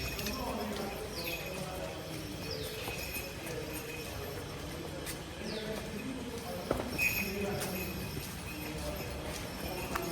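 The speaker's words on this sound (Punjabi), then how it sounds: "ਜੋ ਘੋੜੀ ਆ ਗਈ ਵੀਰ" A mare's hooves clip-clop at an uneven walking pace on hard ground, moderately close, at a dairy farm in Bhoma village, Amritsar, while people talk in the background.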